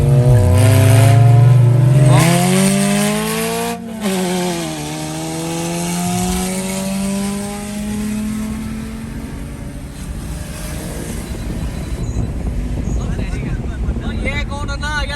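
Race car drifting and revving hard, a loud engine howl climbing and falling through gear changes, fading into more distant engine noise and wind buffeting, with people talking over it.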